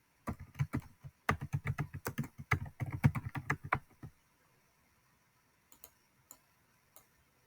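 Typing on a computer keyboard while entering names and numbers into an Excel spreadsheet, a quick run of close clicky keystrokes for about four seconds, then a few scattered taps after a pause; no talking.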